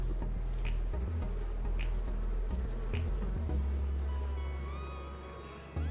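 Honeybees buzz around a hive frame, young bees and a few drones among them, a continuous close hum with faint pitch shifts as individual bees pass by, and no talk.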